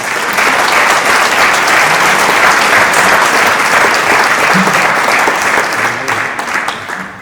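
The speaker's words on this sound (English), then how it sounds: "will you all join me in giving him a round of applause?" A crowd at a mayor-making ceremony gives a sustained round of loud, dense applause that holds steady for several seconds before thinning out near the end.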